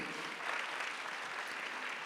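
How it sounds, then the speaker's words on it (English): An audience at a youth business awards ceremony claps in a steady, moderately loud wash of applause that holds for the whole short stretch, with no voices over it. "Clap for yourselves."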